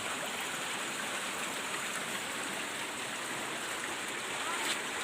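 Water flows steadily through a farm irrigation channel in a rural Ilocano backyard, a continuous, moderately faint rushing wash with no breaks and no talking.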